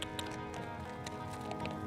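A horse ridden at speed on an outdoor test course, rapid rhythmic hoofbeats thudding along at a gallop, fairly faint and distant against a steady background.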